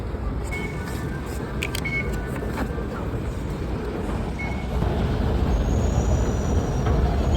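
A metro train at a Singapore MRT station platform rumbles steadily and grows louder as it arrives, with a few electronic chime tones over the low roar.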